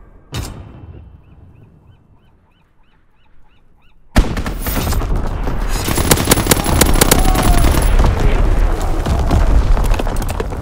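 Dense World War II battlefield gunfire from Call of Duty: WWII erupts suddenly after a brief quieter stretch, then holds as a loud, continuous roar of rapid shots and blasts.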